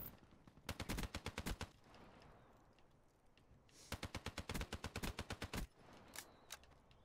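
Automatic rifle fire in the shooter game Black Ops 4: two sharp, rapid bursts, the second longer, each followed by a few scattered single shots, loud and close against a quiet background.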